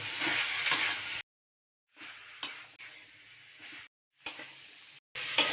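Prawns and boiled young jackfruit sauté in coconut masala with a bright, steady sizzle. The frying comes in several bursts separated by abrupt silent gaps, with a few sharp stirring knocks.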